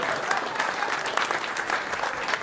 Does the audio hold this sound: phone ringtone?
no